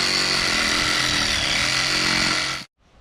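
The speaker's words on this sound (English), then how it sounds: "We gotta use the Sawzall, we gotta cut some roots out." A battery Sawzall reciprocating saw cuts through tree roots, a loud steady buzzing rasp that runs continuously, then cuts out abruptly as the battery dies, leaving near silence.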